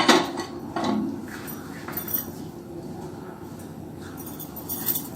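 A pan is set down on a second stove burner while dal payasam (paruppu pradaman) cooks, giving a few light metallic clinks and scrapes of cookware close by in a quiet kitchen.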